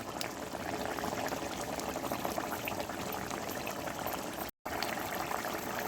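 Katla fish curry gravy boils in a pan, a faint, continuous bubbling and gentle sizzle with small pops, steady throughout and briefly cut off near the end.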